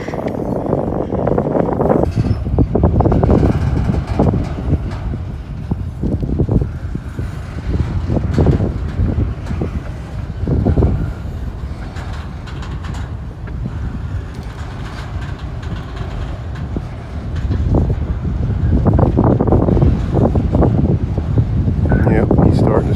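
An auto rack or intermodal freight train picks up speed, giving a loud, continuous rumble with wind buffeting the microphone and occasional voices.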